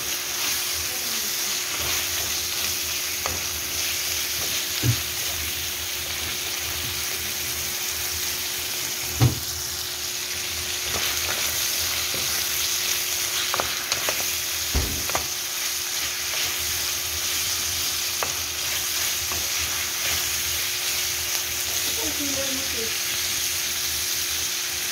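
Chicken fries with garlic and onion for a Filipino dish in a hot pan. A steady, close sizzle runs throughout, broken by occasional scrapes and knocks as the pieces are stirred.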